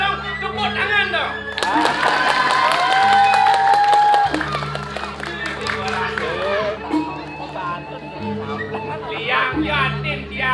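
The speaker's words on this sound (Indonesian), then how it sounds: "tepuk tangan dong" An audience at a Balinese drama gong performance breaks into lively applause and cheering that swells, then lingers beneath a speaking voice and sustained low tones.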